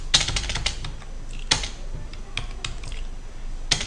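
Keys clatter on a computer keyboard as code is typed, close and crisp, in quick irregular bursts with short pauses and a few harder strokes between them.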